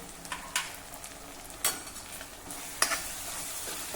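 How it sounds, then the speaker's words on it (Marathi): Spices frying in a pan for a Maharashtrian potato curry: a quiet continuous sizzle with a spoon stirring and scraping, several distinct clinks of metal on the pan. "सर्व साहित्य एक वेळा जरा परतून घेऊ."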